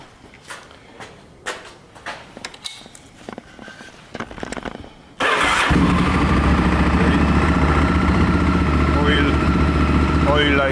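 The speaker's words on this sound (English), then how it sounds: "Let's start the bike now." A Honda VTR 1000 Firestorm (Superhawk) motorcycle, just after an oil and filter change, fires up about halfway through following quiet clicks and handling noises, then runs with a loud, steady, close idle.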